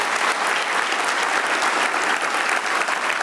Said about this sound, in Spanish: Y le das un aplauso a Dios